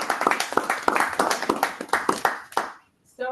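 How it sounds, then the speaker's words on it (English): A small audience claps at a Toastmasters club meeting. Distinct individual claps rattle close by for over two seconds, then stop abruptly, and a brief voice follows after a short silence. "Round of applause for him, please."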